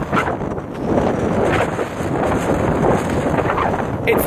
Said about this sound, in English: It's really windy today, guys,